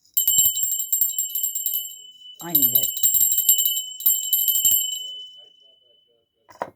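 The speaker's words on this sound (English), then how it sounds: "We're gonna ring the bell." A bell is rung in bright, metallic trills: several sustained ringing bursts follow one another with short gaps, close and loud. A brief voice speaks between rings, and a short ring sounds again at the end.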